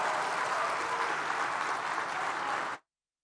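Audience applause after a speech at a forum on democracy and the free market economy, a loud, even burst of many people clapping that cuts off abruptly.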